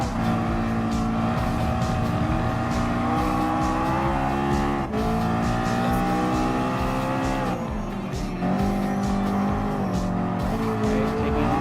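Race cars including a LaFerrari roar through a race in Gran Turismo Sport, a continuous loud layered engine drone with shifting revs and occasional tire squeal, no talking.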